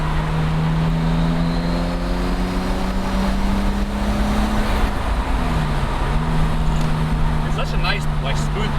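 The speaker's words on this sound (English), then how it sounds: "Some turbo noises." A turbocharged Nissan Laurel engine pulls hard under acceleration, its droning tone climbing steadily, then dropping briefly and rising again, with faint turbo whistle and chatter near the end, loud and close inside the car.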